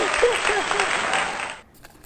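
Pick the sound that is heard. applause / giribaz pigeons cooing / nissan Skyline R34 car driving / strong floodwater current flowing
applause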